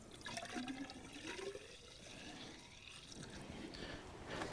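Washer fluid is poured from a jug into a car's reservoir without a funnel, a continuous gurgling, splashing liquid sound with a rising fill tone, close and steady for several seconds.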